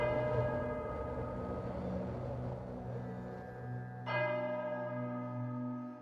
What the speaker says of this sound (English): A bell sounds in the distance.